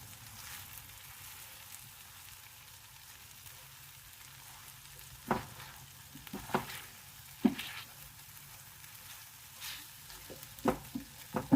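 Prawn pad thai stir-fries in a pan with a soft, steady sizzle and scattered stirring clatters growing busier toward the end, fairly quiet, with no talking.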